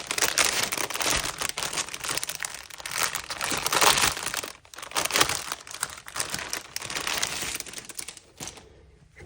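Crinkly plastic packaging around embroidery floss cards gets torn open, a dense, close run of crackling and rustling that goes on for several seconds before easing off.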